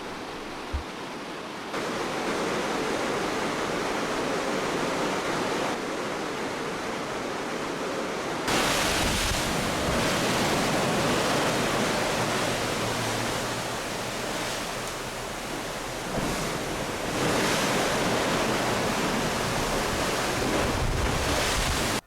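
Rough ocean waves in the Drake Passage heard from a ship bound for Antarctica, a continuous loud roar of surf and spray with heavy wind buffeting the microphone.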